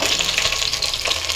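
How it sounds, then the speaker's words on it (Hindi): Water pours into a pot of whole chilies and chopped onion for Turkish chicken soup, about two litres, a steady loud rushing splash throughout with no talk. "अब इसमें हम पानी डालेंगे"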